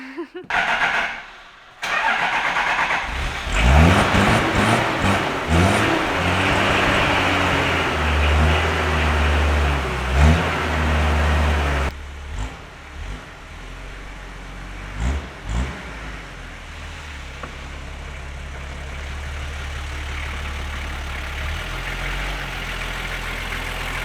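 A Toyota Land Cruiser HJ47 Troopy engine cranks and catches, then runs with a steady low rumble and a few rises in revs before easing to a quieter idle or cruise, close by.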